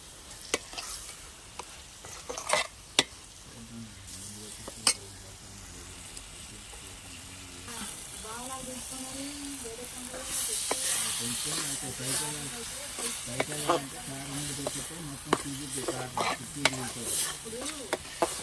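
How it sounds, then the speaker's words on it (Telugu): A spoon stirs raw prawn curry with turmeric in a home pan, scraping and clinking in irregular strokes over a steady sizzle and hiss of frying; a voice talks intermittently underneath. "మళ్ళీ ఒకసారి తిప్పుకుంటున్నానండి"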